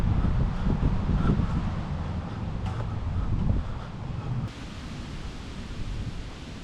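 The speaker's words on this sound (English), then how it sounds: "It's a windy place, Scotland, let me tell you." Strong wind blows outdoors in Coupar Angus, Perthshire, Scotland, roaring and buffeting a microphone in continuous, rumbling gusts that ease slightly toward the end.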